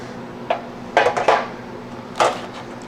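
Metal freeze dryer trays holding cooked pasta clatter and scrape as they are handled and slid out of a snug, upward-angled rack, giving four short, close metallic knocks with quiet gaps between them.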